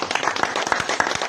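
Congregation clapping in a church service, a dense run of many hands striking together in a steady, lively rhythm, fairly loud and without voices on top.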